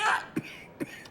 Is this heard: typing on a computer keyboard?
no